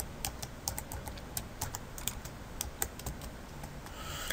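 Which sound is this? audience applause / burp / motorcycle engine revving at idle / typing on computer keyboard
typing on computer keyboard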